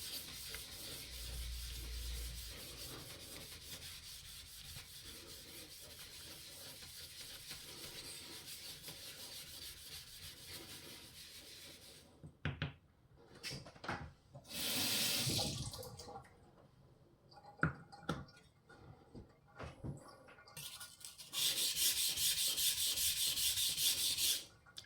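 A blade is polished on an Australian natural whetstone, with repeated wet scraping and rubbing strokes alongside bursts of running tap water, close and moderately quiet with no talk.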